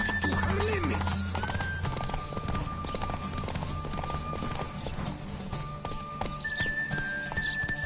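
Roach, a horse in The Witcher 3, gallops with steady clip-clop hoofbeats throughout, a brief whinny near the start, over game music and ambient tones, with a voice speaking at times.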